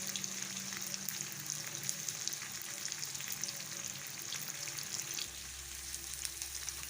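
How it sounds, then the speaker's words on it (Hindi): Onions and green chillies fry steadily in a pan for a street-style pan fry, a constant close sizzle with a soft crackle that never lets up. "प्याज फ्राई हो चुके हैं, साथ हरी मिर्चें भी फ्राई हो चुकी हैं।"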